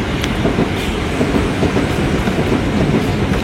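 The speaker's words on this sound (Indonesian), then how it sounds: "Kereta lewat." A train rolls past right beside a trackside noodle stall, loud and close, with a dense rumble and rhythmic clattering of wheels over rail joints throughout, no talk heard.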